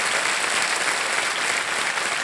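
A TV quiz-show studio audience applauds a contestant, a dense, even wash of many hands clapping that holds steady throughout with no talk over it.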